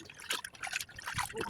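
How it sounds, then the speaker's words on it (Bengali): Turmeric poured over 20 kg of meat by a cook, a soft trickling, pattering pour with scattered grainy bursts, close and fairly loud. "এখানে আমাদের বাবুর্চি সাহেব 20 কেজি গোস্তের উপর হলুদ ঢেলে দিল"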